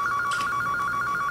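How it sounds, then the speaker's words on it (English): A telephone bell rings in a continuous, evenly pulsing trill, close and clear against a faint room hum, with no talking. "I promise you that phone's going to ring any day now."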